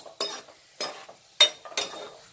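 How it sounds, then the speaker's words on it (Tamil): Cashew nuts stir-frying in a pan make four distinct rustling, scraping strokes at a steady rhythm, each followed by a faint sizzle and quiet gaps. "அது வரைக்கும் நல்லா வதக்கிட்டே இருக்குங்க நல்லா கோல்டன் ப்ரௌன் வந்ததுக்கு அப்புறம் எடுத்துடலாம் அதை"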